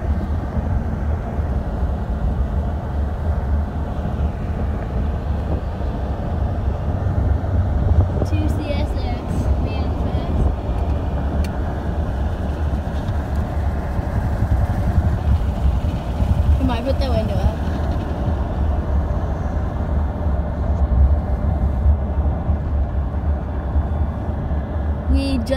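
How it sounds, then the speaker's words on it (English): A CSX manifest freight train with leased GECX locomotives passing at Erie, Pennsylvania, a loud sustained rumble of engines and rolling cars throughout, with brief squeals of wheels. "Here's the train."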